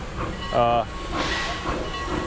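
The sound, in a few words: narrow gauge steam locomotive Eureka Palisades passing by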